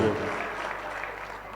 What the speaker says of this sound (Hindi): तालियां बजा दीजिए ताकि कुछ शेर इनसे और सुनिए।